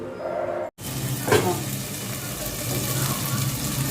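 Tomatoes frying in a pan on an induction cooker for chicken biryani: a steady close sizzle throughout, with a brief stir and scrape near the start.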